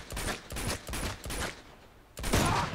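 Pistol gunshots in the video game Uncharted 2, a run of sharp, close reports at a steady pace, with a short pause before one final louder shot.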